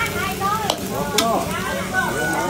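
Chopped garlic and onion fry in a pan with a close, steady sizzle and a couple of sharp clinks from stirring. Muffled talk lingers underneath.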